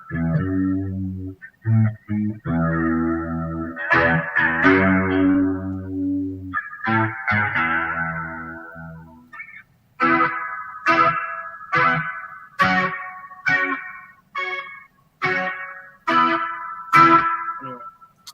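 Electric guitar run through an effects pedal into an amp with reverb, first held chords and slow strums, then a series of sharp, punchy strummed chords with gaps between them.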